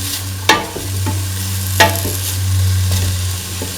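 Tofu pieces drop into a hot pan for a tofu, potato and coconut milk stew, giving sharp clacking stirs at a slow irregular pace over a steady sizzle and a low constant hum.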